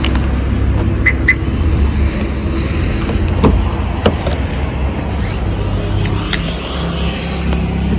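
A car pulls away and drives off, its engine and road rumble steady and close throughout, with a few sharp clicks and knocks on top and no talk.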